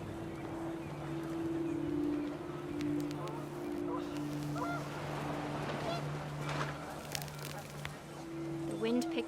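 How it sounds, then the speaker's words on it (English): Panicked geese honk in What Remains of Edith Finch, several birds calling in a steady run of nasal honks over wind, with a voice talking over them. "The wind picked up, and panicked geese appeared and quickly went"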